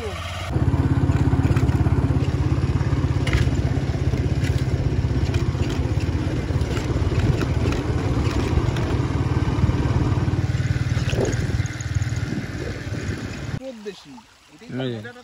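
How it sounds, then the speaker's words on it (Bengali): A motorbike engine idles and runs close by with a steady low throbbing rumble under loud talk at dusk in a quiet forest area, then cuts off near the end, leaving a voice. "অলরেডি বাইক স্টার্ট হয়ে গেছে"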